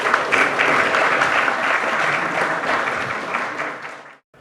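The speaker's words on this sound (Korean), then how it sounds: "박수로 맞이해 주시기 바랍니다." Sustained audience applause at a policy forum on cyber security, welcoming a former cyber command chief to the podium; steady, dense clapping that fills the room for about four seconds, then cuts off abruptly.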